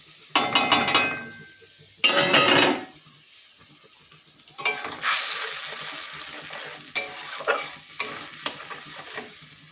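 Spices with salt, turmeric and a little sugar frying in oil, loud bursts of sizzling and stirring that come and go, mixed with metal spoon scrapes and clinks against the pan.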